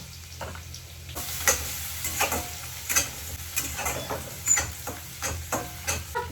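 Food sizzles steadily in hot oil in a pan while being browned to a golden colour, with a constant close hiss broken by repeated short scraping stirs and crackles, no voices.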